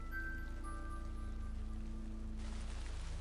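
Steady rain falling in the RPG Maker horror game Forest of Drizzling Rain, a constant soft patter under sustained game tones and a low hum.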